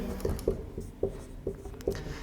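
Chalk or marker writes on a board during a geometry lesson on tangents to a circle, with a quick series of close, distinct tapping and scratching strokes at a steady pace and no talking.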